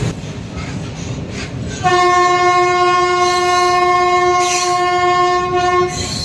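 A Salem–Karur passenger train sounds a loud, close, sustained horn blast lasting about four seconds over a background rumble of the train and station.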